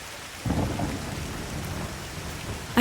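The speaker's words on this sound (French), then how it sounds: "ainsi que l'orage arrivé." A thunderstorm rolls in over a granite rock face, with a low rumble of thunder swelling under a steady hiss of heavy rain for a few seconds.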